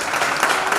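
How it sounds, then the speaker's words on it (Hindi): A short burst of steady applause from an audience at a corporate welcome event, many hands clapping together at close range, loud and continuous. "सब लोग ताली बजाते रहो भाई"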